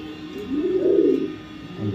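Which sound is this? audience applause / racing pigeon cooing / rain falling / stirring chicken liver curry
racing pigeon cooing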